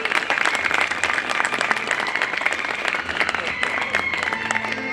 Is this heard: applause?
yes